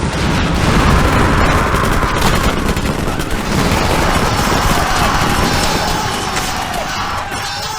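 Massed musket volley fire in Wars of Napoleon, a loud continuous roar of overlapping shots and rumbling blasts sustained throughout, with faint crowd noise beneath and no clear talk.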